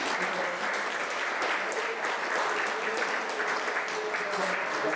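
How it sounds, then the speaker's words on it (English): Audience at a town hall meeting applauding steadily, a dense wash of many hands clapping at even loudness throughout, with faint murmuring voices underneath. "a round of applause"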